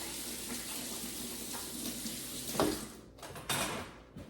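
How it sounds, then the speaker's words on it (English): Water from a kitchen tap runs steadily for about three seconds while hands are washed after handling eggs, then cuts off, with a couple of brief splashes and a final short burst of flow. "I gotta wash my hands."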